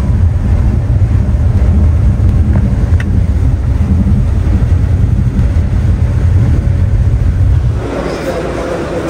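A bus travels along the road toward Dhaka in heavy rain, its steady, loud engine and road rumble filling the cabin without a break, with the tone shifting slightly near the end.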